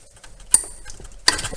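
Wrench loosening the head plug on a Volkswagen ALH TDI injection pump, giving two sharp metallic clicks or cracks about 0.7 seconds apart in a quiet garage, the second followed by a brief rattle.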